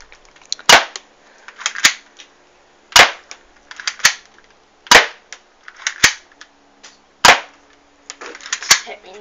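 Mini Defender toy gun from a players kit fired repeatedly at the target supplied in its box: sharp, loud cracks roughly once a second, each followed by a short clatter of the pellet striking the target, with no talk.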